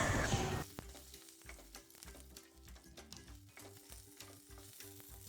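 Curry leaves crackle and sizzle in hot oil for a snack mixture, a quiet, close frying patter broken by small pops and occasional stirring scrapes, following a brief louder hiss at the start.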